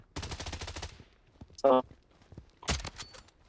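Gunfire in the Blood Strike video game sounds as short bursts of shots spaced out over a few seconds, with a sharp tonal burst in the middle and someone talking in between.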